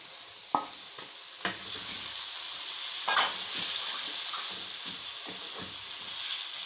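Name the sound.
half kilo of meat added to pot with spinach and turnip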